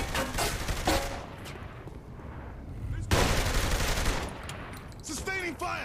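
Sustained bursts of automatic gunfire in the video game Saints Row 3, loud and dense, pausing briefly before a second heavy volley, with faint voices mixed in.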